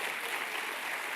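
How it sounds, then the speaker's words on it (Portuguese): A church congregation at a Sunday evening family service applauds, a brief, soft, even patter of many hands heard at a distance. "Você pode dar uma salva de palmas ao Senhor."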